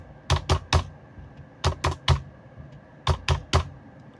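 Someone types an Aadhaar number on a computer keyboard while filling in an online EPF nomination form: crisp, close keystrokes in three quick clusters of about three presses each, separated by brief pauses.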